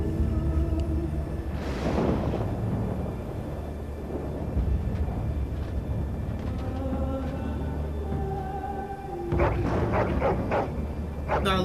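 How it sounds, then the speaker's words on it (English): Dogs in the Dragon Age: Origins game bark and yip in short bursts over a steady music and ambience bed, with talk present and a brief whimper-like sound near the end. "Oh, look at those dogs, they're all happy and healthy."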